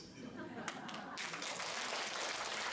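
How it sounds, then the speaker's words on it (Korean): Pilgrims applaud at the closing ceremony of a month-long Buddhist pilgrimage in Myanmar; brief, moderately faint clapping swells and fills the second half. "법화행자들은 함께 고생한 이들에게 박수를 보내주었다."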